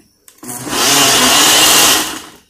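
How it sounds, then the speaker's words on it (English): Blender blending a smoothie starts with a click, then a loud, steady high-pitched whirring motor runs for about two seconds before winding down. "it's in the blender now. We're gonna start."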